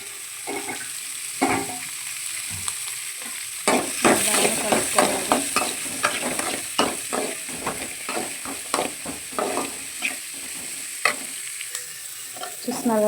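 Smashed garlic and carrots frying in a pan, a steady sizzle broken by repeated scraping stirs and clatters, close and distinct with no talking.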